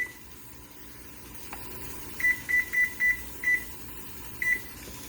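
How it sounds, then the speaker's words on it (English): A kitchen timer set while canning beets gives a series of short electronic beeps, about six in an irregular row, clear over a low hum. "now I'm going to set my timer for 25 minutes"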